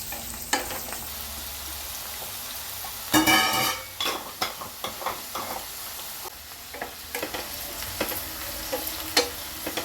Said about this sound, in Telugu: చూడండి మంచిగా ఫ్రై అవుతున్నాయి బెండకాయలు అనేవి.